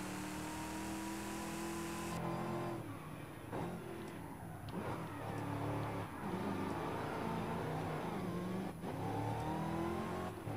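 Vintage car in Forza Horizon 5 revving and accelerating on a circuit at Playa Azul, its engine note rising and falling with throttle changes, loud and close throughout with no talk over it.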